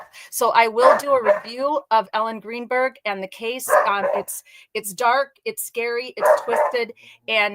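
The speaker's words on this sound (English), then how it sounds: "Sorry about the dogs. They're barking something outside." Dogs bark outside in short, intermittent yips and woofs beneath continuous close-up talking.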